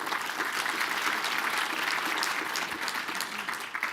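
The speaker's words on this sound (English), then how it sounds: "Let's give them a quick round of applause." Keynote audience at a Linux Foundation member summit applauding the gold sponsors, a steady, dense round of clapping that holds at full strength for about four seconds with no talk over it.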